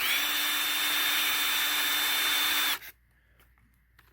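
A power drill spins a length of knife-handle pin material steadily at high speed for nearly three seconds, then cuts off abruptly, leaving near silence with faint handling noise.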